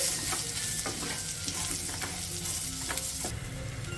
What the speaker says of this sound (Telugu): ఇప్పుడు ఇంకా ఒక 2 నిమిషాలు ఈ ఉల్లిపాయ ముక్కలతో పాటు ఈ ముక్కల్ని ఫ్రై చేసేసుకుందాము.